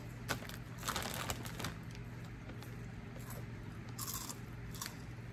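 Spicy hot Funyuns onion-flavored chips crunched and chewed close up, a steady run of crisp bites and crackling with sharper snaps, alone with no talk.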